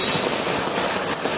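Heavy monsoon rain pours in Mumbai, a dense, loud, continuous hiss with no distinct drops standing out and no voices.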